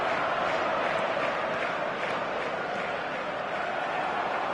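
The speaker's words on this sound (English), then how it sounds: "the crowd clearly like what they just saw" A stadium crowd in the eFootball 2024 football video game roars steadily, a dense, continuous wash of cheering that stays loud and even throughout with no distinct voices standing out.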